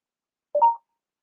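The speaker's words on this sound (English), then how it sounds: "There goes my phone trying to listen in on my conversation" A mobile phone gives off a single short electronic tone, brief and clear against silence.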